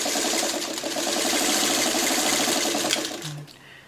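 A sewing machine stitches coffee pot quilt block pieces in one continuous run of rapid, rhythmic needle clatter and motor hum, close and fairly loud, slowing and stopping near the end.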